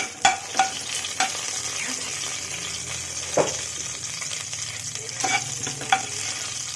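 Vegetable biryani with cloves and cardamom being stirred in a pan: a continuous frying sizzle broken by several sharp scrapes and knocks of the spoon against the pan, close and fairly loud, without speech.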